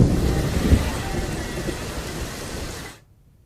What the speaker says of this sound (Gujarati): જિલ્લાના ગ્રામીણ વિસ્તારોમાં વરસાદ વરસી રહ્યો છે